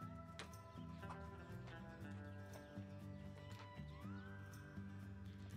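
A horse at a horse property in southern Utah neighs, its harmonic whinny sitting within a steady, continuous background.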